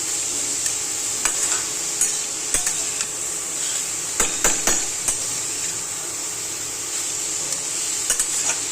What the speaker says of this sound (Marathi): तुपामध्ये ना हे गाजर चांगलं आहे ना फ्राय होऊन द्यायचं.